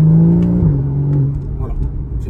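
A Porsche engine revs close by with a deep, loud droning tone that shifts pitch as it changes gear, easing down into a rumbling idle, while a voice talks over it.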